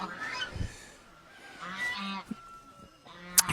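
Chickens being snatched in a comedy sketch squawk and cackle in a few short, harsh, close bursts, scattered unevenly across a brief, fairly quiet stretch.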